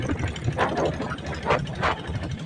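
A 2000 TVS Taurus diesel motorcycle engine idles close by with a low chugging rumble, punctuated by periodic louder knocking pulses.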